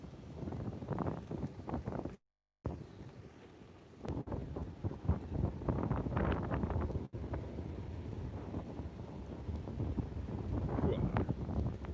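Heavy wind buffets the microphone in rough, rumbling gusts throughout on the San Diego Bayfront, with a voice talking beneath the roar and two brief dropouts.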